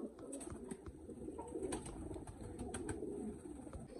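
A chuha batera pigeon coos softly in low murmuring phrases at close range, with sharp ticks and clatters from other birds or cage movement scattered through it and no talking.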